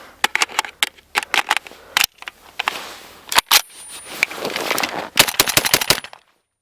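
Rapid strings of sharp, close rifle shots from a Type 81 SR firing cold Gecko 124 grain ammunition, in quick bursts and single cracks over about six seconds before falling silent.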